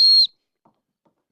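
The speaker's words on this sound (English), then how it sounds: "there's a whistle going off" A single sharp, shrill whistle blast, loud and close, lasting about a quarter second before cutting off, followed by near silence with a couple of faint ticks.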